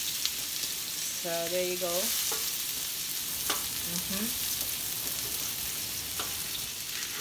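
Onions for pancit sizzle steadily in a hot pan, a constant broadband frying hiss close by, while someone speaks briefly over it.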